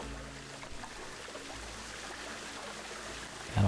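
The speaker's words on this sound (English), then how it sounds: "And all this water splashing around over here." Rushing rapids in the Planet Zoo park-building game splash and pour in a steady, fairly quiet wash of water, with a louder burst right at the end.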